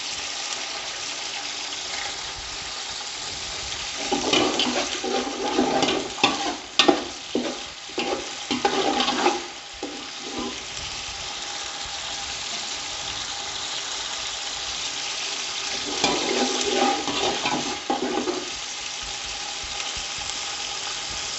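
Garlic fries in a pan for beef pulao with bursts of sizzling and stirring scrapes, the frying coming in two busy stretches separated by quieter background hiss; no one speaks.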